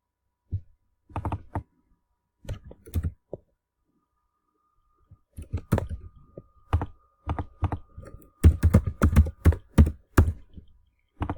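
Bursts of clicking keystrokes on a computer keyboard while logging in to an account, close and crisp, with short irregular runs, a gap of silence, then faster, denser typing.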